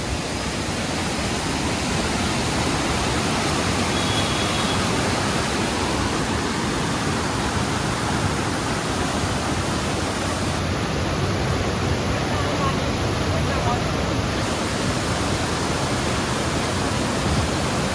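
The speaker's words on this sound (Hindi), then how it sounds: "पानी का यहाँ पे बहुत बहाव हो रहा है" Fast-flowing Ganga river water at Rishikesh rushes in a steady, loud broadband roar that holds without a break throughout, close and unbroken.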